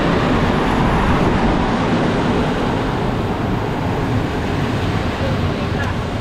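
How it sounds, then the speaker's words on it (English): A steady, loud rumble of a Polish intercity train arriving at a station in Kraków, broadband and continuous throughout, with no clear voices. "the Polish intercity train is about 15 minutes late."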